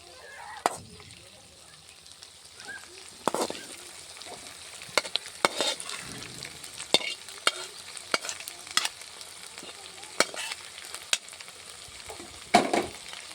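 Fried cashews stirred into a village-style chicken curry in a pan over the fire, with repeated spoon scrapes and soft clatter against steady sizzling, close and moderately loud, irregular strokes throughout, no talk.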